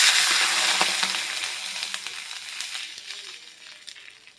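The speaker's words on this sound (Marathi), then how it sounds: "सगळ्यात पहिल्यांदा मी तूप गरम झाल्यानंतर यामध्ये लवंग घालणार आहे." Whole cloves sizzle in hot ghee at the start of a sweet vermicelli zarda, a dense steady hiss with a few crackles that fades gradually over a few seconds, with no voices.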